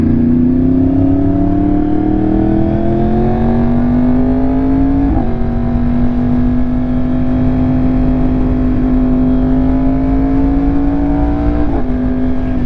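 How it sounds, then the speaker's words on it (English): A 2025 Yamaha R1 motorcycle ridden through traffic, its engine droning loud and close with steady rising pitch, brief gear-shift dips, and constant wind roar underneath. "Like here, look, I'm in traffic."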